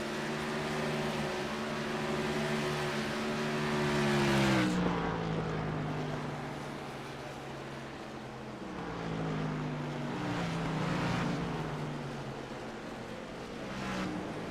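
Racing trucks roar around a race track, a steady loud engine drone with rising and falling pitch as trucks pass and shift, continuous throughout with no talk.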